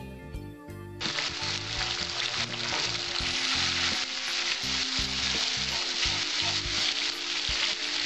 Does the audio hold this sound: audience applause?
no